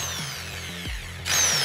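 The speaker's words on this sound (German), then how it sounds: "Also die Bohrmaschine fühlt sich genauso an wie ein Akkubohrer" A small improvised power drill, built to feel like a cordless drill, whirs briefly with a rising whine, stuttering once before spinning up louder near the end.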